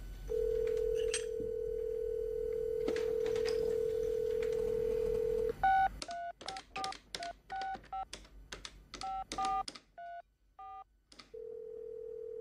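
A telephone line gives a long continuous dial tone, then a rapid run of keypad tones beeps out a number before a short pause and a renewed tone.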